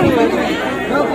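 Dense babble of many voices on a crowded Indian railway station platform before a Bilaspur to Haridwar train journey, a steady close hubbub with no single voice standing out.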